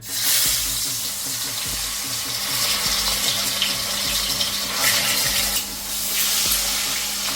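Boal fish hits hot oil in a wok and fries with a loud, continuous sizzle and crackle that holds steady throughout, with no voices over it.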